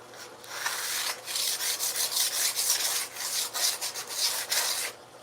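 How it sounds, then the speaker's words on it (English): Model runway pieces being sanded by hand, steady repeated rasping strokes in a fairly even rhythm, close and moderately loud with no talking. "I have to sand down the runway pieces"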